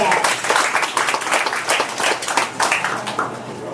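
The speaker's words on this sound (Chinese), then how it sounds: "那我们就掌声欢迎我们的 Alessio" An audience applauds to welcome a presenter at an indoor camera product event, a dense, steady round of clapping, close and fairly loud.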